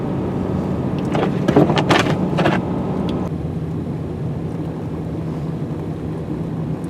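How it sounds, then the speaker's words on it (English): Truck with its exhaust brake engaged in third gear on a snowy road during a North Country snowstorm, a steady low droning rumble with wind noise and a brief clatter early on, no talking. "Hear that exhaust brake slowing us down."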